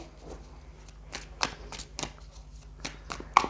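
Tarot cards being shuffled by hand in a quiet room, a series of soft riffling flicks and taps, a few sharper snaps standing out near the end.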